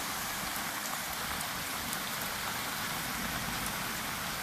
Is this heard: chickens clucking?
no